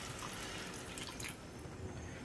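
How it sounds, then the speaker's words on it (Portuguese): A small splash of water, about half a glass, is poured into seasoned meat in a hot pan, making a continuous hissing, bubbling wash of sound that tapers off near the end. "eu irei colocar aqui, gente, só um fiozinho de água, bem pouco mesmo"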